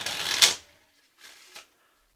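Playing cards shuffled by hand during a close-up magic trick: a dense riffling burst lasting about half a second, then a second, softer shuffle moments later, near and crisp with no talk.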